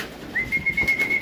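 Racing pigeons in a loft give a soft, steady cooing with a faint whistling tone, close and short, with nothing else heard.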